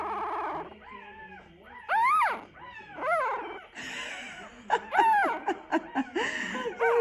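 Close young puppy with docked tail whining and complaining in rising, wavering cries and short squeaks, pausing between bursts, with some faint human murmuring mixed in.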